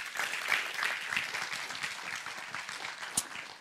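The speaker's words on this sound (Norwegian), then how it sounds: "gi en god applaus til Ingrid Lorang" Applause for a foundation's managing director at a Norwegian seminar on preventing violence and extremism: a steady, fairly faint patter of clapping from an audience, continuing evenly without talk.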